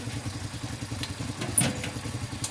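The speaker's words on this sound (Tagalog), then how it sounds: "Patayin nyo muna yung mga motor nyo." Several motorcycle engines idle close by at an ice cream stop, a steady low chugging pulse with a brief clatter partway through and no talk.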